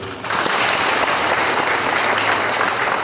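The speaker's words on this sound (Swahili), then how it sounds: "Makofi kweli." A church congregation breaks into loud, sustained applause, starting abruptly and holding steady as a dense wash of clapping for about three seconds.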